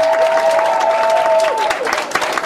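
Concert audience applauding for the singer and his band, a dense wash of clapping and crowd noise with a sustained tone fading under it, heard fairly close.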